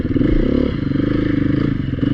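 Beta dirt bike ridden along a wooded trail, its engine droning steadily up close with a dip and recovery in revs, mixed with clattering and scraping over rough ground.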